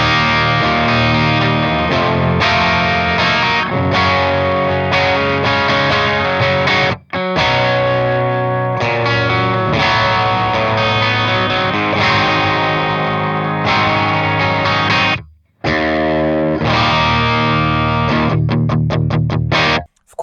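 Vola OZ MC electric guitar played through its humbucker pickup with heavy distortion, loud dense chords and riffs ringing steadily with brief pauses and a final choppy muted passage.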